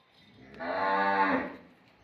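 A Cholistani Friesian cross cow gives one clear, drawn-out moo up close that swells and fades over about a second, alone against a quiet background.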